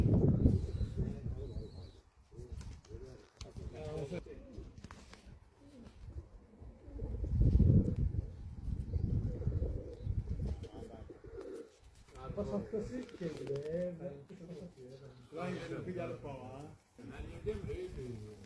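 Soft, repeated cooing of doves or pigeons runs through the scene, mixed with ongoing talk and background noise.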